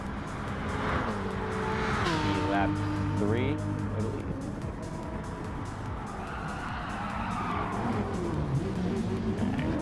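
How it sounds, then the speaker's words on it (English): A race car in Gran Turismo Sport spins out, tires squealing in rising and falling wails over the droning engine, with the revs swooping as the car slides; someone talks throughout. "I spun my car."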